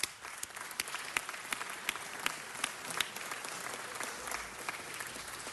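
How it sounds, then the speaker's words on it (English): A chamber audience at a Los Angeles City Council presentation applauds Jewish Family Service, steady clapping from many people with some sharper individual claps standing out, lasting several seconds. "Could you please join me in giving them the round of applause that they deserve?"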